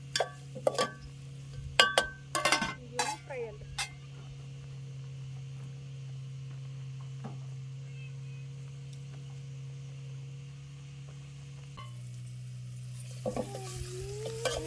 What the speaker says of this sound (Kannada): ಉಳ್ಳಾಗಡ್ಡಿ ಟೊಮೆಟೊ ಹಣ್ಣು ಎಲ್ಲ ಫ್ರೈ